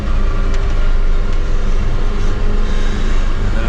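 A BMW car passes close on a snowy rural road with a loud continuous rumble of engine and tyres, heard from inside a moving farm vehicle, no voices.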